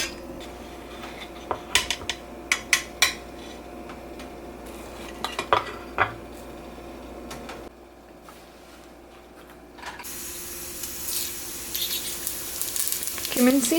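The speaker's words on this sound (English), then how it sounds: "Then I have some shallots and bell pepper which I'm just frying it." Shallots and bell pepper frying in a pan for an Indian breakfast, a steady sizzle with stirring scrapes and clinks of a utensil against the pan, close and moderately loud, with a brief quiet gap before the frying picks up again.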